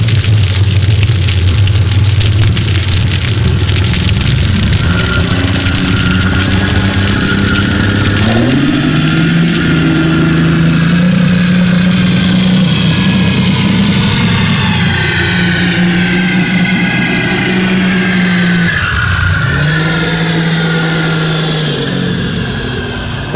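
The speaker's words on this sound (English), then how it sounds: "if you're in the water listening and a boat goes by, here's what you're going to hear." Boat passing, heard underwater near a pier: a loud, continuous engine and propeller drone with a low throbbing hum whose pitch rises and falls as the boat approaches and moves off, steady throughout with no voices.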